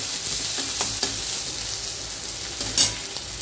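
Chopped onions sauté in a pan for Marathi-style okra curry: a steady close sizzle with soft spatula stirring scrapes and one brighter hiss near the end, no voices.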